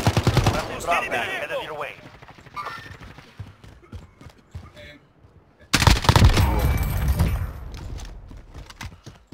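Bursts of rapid gunfire in Call of Duty Modern Warfare 2019, a loud volley at the start and another heavy burst later, with a voice talking between them.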